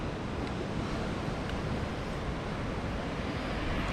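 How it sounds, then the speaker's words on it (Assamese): Cold wind rushes steadily past a cyclist riding from the Bomdila bypass toward Senge Dzong on the road to Tawang, a constant, even roar of air with no pauses. "ঠাণ্ডা বতাহটো লাগিছে অলপ চলপকৈ"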